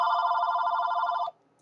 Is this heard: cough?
no